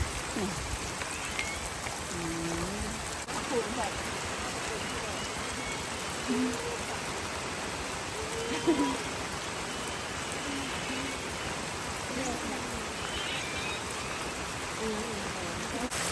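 Light rain patters steadily and evenly around a hut in a rice field, a continuous soft hiss with scattered faint drops and occasional distant sounds under it, no clear voices.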